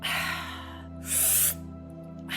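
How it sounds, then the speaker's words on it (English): A deep, sucking inhale taken during a breathwork exercise, drawn in like pulling back a bow; a loud, close breath noise sits over steady low background hum, with a shorter breath sound starting again at the end. "Then we have a bow breath. It's a deep suck, inhale,"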